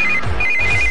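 A telephone rings with a steady, loud electronic ringtone that pulses in repeated bursts, heard alone with no voices.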